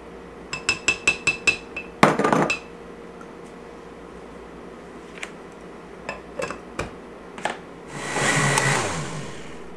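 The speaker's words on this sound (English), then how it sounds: "And we'll blend this down just a little bit." A blender whirs through vegan chocolate cheesecake filling in short bursts: a quick whirr early on, then a longer, louder one near the end, with clinks and taps of kitchen tools in between.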